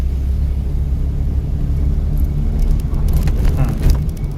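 A car engine revs steadily through a U-turn, producing a constant loud low rumble with some rising activity near the end.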